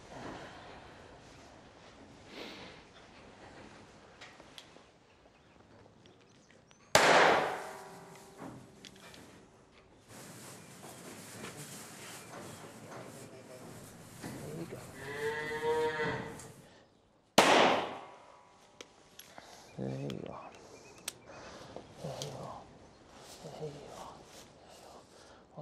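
Gun shooting male dairy calves on a farm: two sharp, loud bangs about ten seconds apart, with cattle mooing and people talking quietly in between.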